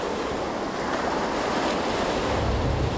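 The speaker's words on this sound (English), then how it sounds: "Even out here among the stormy seas" Stormy sea waves roar continuously, a dense, loud wash of surf with wind, steady and close with no voices.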